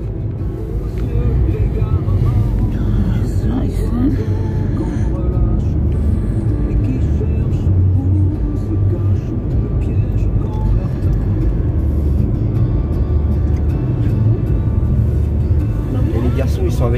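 A car cruises steadily along a road on a calm holiday morning, its low engine and tyre rumble continuous throughout while people talk inside the cabin.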